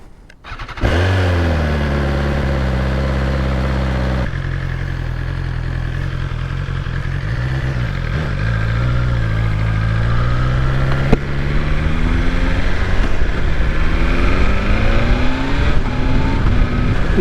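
A 2023 BMW S1000XR motorcycle engine cranks and fires up, then settles into a steady idle that gradually climbs into higher revs, loud and close with no talking.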